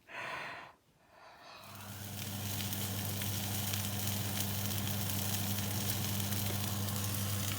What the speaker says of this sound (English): I've got it in the pan with the sausages. I'm going to try and cook it that way.